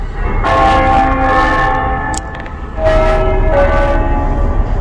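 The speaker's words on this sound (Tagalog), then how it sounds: "Lakas ng kampana, no?" Loud church bells ring in repeated rich tolls with lingering resonance, a brief lull between strikes, over a low rumbling background.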